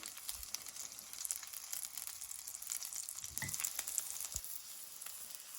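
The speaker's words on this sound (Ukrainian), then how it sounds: "Так, тримаємо, щоби Оладки гарно зарум'янилися." Small liver fritters with vegetables sizzle steadily in a frying pan, a soft hissing crackle with a few faint bumps and clicks, close and moderately quiet.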